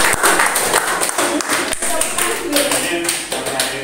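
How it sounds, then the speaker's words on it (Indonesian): A classroom audience claps together, a dense, steady patter of hands filling the whole moment, with voices talking over it. "Tepuk tangan dulu."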